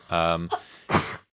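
A single short, sharp sneeze bursts out after a voiced intake of breath in a podcast setting, close and fairly loud, then cuts to silence.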